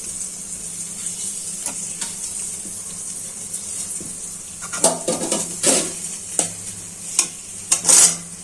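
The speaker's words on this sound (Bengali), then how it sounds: "পেঁয়াজটা প্রায় ভাজা হয়ে গেছে, গ্যাস তো কম, তার জন্য এখন চিংড়ি মাছগুলো দিয়ে দিচ্ছি" Small shrimp tossed into onions frying in a pan over a low gas flame, giving a soft steady sizzle with clattering stirs and splashy bursts growing busier toward the end.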